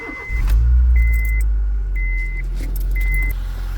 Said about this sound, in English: Now let's just start the vehicle and make sure we're running sweet and that there's no leaks.